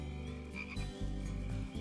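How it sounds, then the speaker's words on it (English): A dense chorus of frogs croaks at night in a steady, overlapping pulse, loud and close, with no voices. "You can hear the froggies singing."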